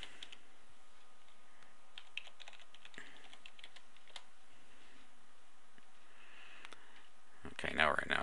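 Admin username and password being typed on a computer keyboard: a steady run of faint, close key taps, with a louder rustle of handling near the end.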